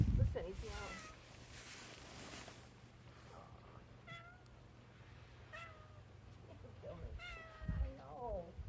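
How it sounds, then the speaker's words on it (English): A cat meows several times in short, rising cries, close by on a sheep farm, with a person speaking softly between them and a low hum underneath. "Listen, he's meowing."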